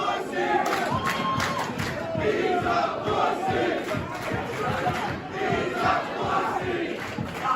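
A wrestling crowd chants and cheers in rhythmic bursts, many voices shouting together in a pulsing, loud arena roar with thumping beats throughout.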